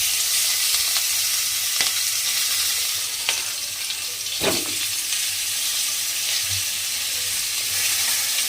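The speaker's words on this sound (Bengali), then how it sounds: "এইবারে আমি ফুলকপিগুলো ভেজে নেব।" Cauliflower pieces sizzle in hot oil left over from frying fish, a loud bright crackle with a few stirring clatters and a bubbling burst partway through, no talk.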